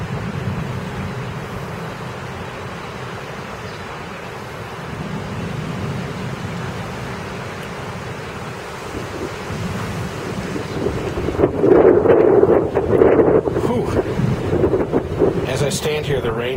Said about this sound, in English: big, fat, heavy fucking raindrops just blasting the ground